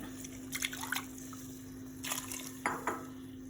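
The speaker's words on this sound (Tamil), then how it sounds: "இதுக்கு தேவையான தண்ணி உங்களுக்கு எந்த அளவுக்கு திக்னஸ் வேணுமோ அந்த மாதிரி தண்ணி ஊற்றிக்கோங்க" Water poured into a kohlrabi coconut kurma in a pot, with short splashing bursts and a light clink of a utensil against the vessel over a steady hum, close by.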